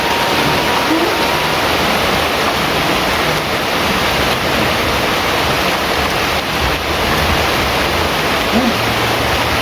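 Steady, dense rain falls continuously during a spicy goat-head curry mukbang, a loud, even broadband hiss with no pauses across the whole stretch.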